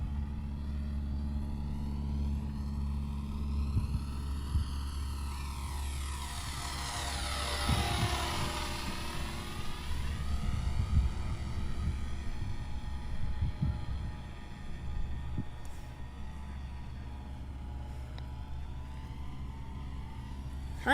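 A Rage R/C Taylorcraft Golden Age micro RTF airplane makes a low pass outdoors. Its small electric motor gives a steady buzzing whine that swells as it passes close around the middle and then fades, with no talk.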